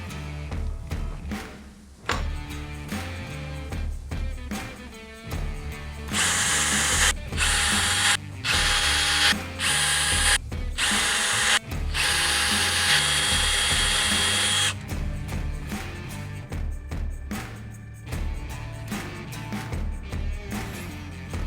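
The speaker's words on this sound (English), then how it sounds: "You're gonna drill that out to 5/8 if you're using locking bolts" A power drill whines in repeated bursts as it bores holes in a Harley-Davidson mounting bracket, with clicks and mechanical rattles in the pauses between runs.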